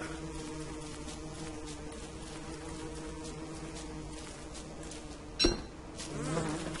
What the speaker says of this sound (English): There were like a crap ton of evil bees over here.